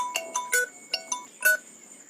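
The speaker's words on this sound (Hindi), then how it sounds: "पता नहीं किसका फोन आ गया।" A mobile phone ringtone rings during a class 10 maths lesson on arithmetic progressions, playing a bright, repeating melodic chirp of short beeping notes, fairly close and clear, with no talk over it.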